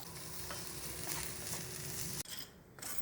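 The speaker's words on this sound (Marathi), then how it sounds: "बारीक गॅस ठेवायचा आहे आणि ढवळत राहायचं आहे आपल्याला।" Barnyard millet roasting in ghee over a low flame, stirred steadily: a close, continuous soft sizzle with scraping stir strokes, then a brief clatter and a quieter pause near the end.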